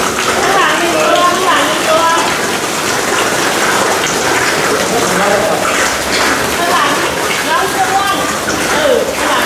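Fish tank being refilled, a continuous gushing pour of water splashing into the tank with bubbly churning, close and steady throughout.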